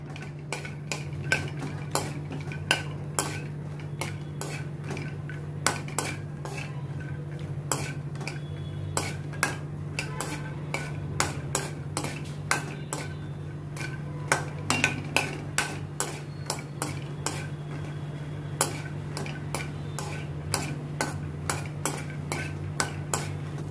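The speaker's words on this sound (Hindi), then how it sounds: "इसमें अभी मैंने ये 100 ग्राम पीनट्स लिए हैं, इनको मैं रोस्ट कर लेती हूँ।" Dry peanuts stirred in a pan over a low flame give a steady run of light scraping and ticking clicks, close and continuous, with a low steady hum beneath and no talk.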